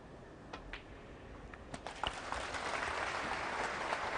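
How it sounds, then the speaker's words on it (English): Applause for a century break at a snooker tournament rises gradually from scattered claps into a steady patter from a crowd, heard at a moderate distance. "There's the applause for the century"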